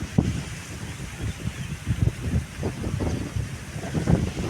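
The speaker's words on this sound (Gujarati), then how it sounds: "જો એકદમ મસ્તનો પવન નીકળ્યો." Gusty wind buffets the microphone with low, rumbling bursts that rise and fall irregularly throughout, loud and close, with no voices.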